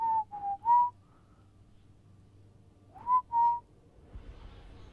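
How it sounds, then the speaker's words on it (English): A person whistles a short three-note phrase, pauses, then whistles two more notes, clear and close against a quiet background. "I heard whistling."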